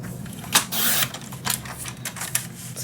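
Paper being cut for a steampunk Christmas mini album, heard as a run of brisk, close slicing and clicking strokes from a paper trimmer, loudest in one sustained swipe near the start, with smaller snips after it.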